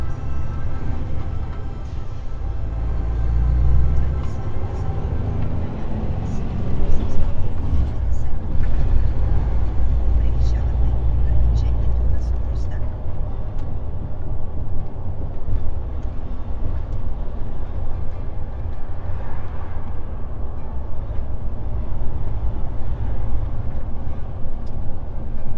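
Truck driving on a road, a steady low rumble of engine and road noise running throughout at constant loudness, with a person talking over it.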